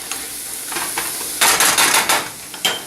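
Tomato paste stirred and sizzling in a rustic one-pot chicken and chickpea stew, a soft steady fry broken by several louder scraping stirs near the end, no voices.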